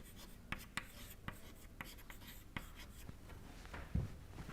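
Close, quiet scratching of a pen or marker writing an equation by hand during an engineering lecture, with irregular taps and strokes at a steady working pace and a firmer knock near the end.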